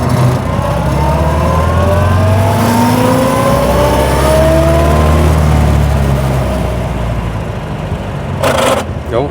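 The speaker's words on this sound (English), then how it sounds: "the mechanical symphony that is the gearbox, and just enjoying the torque on offer" A 1932 Austin Heavy 12/4 Windsor pulls along with its engine droning loud and close, rising and falling through the revs as the gearbox whines, with a voice talking over the mechanical noise throughout.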